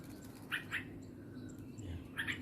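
A young straw-headed bulbul (cucak rowo) gives a few short, bright chirps in the morning, spaced out over a quiet background with a soft low murmur.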